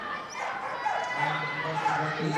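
A dog at a flyball team competition at Crufts gives a few yipping, whining barks amid loud, continuous crowd and arena noise, with a commentator talking over it.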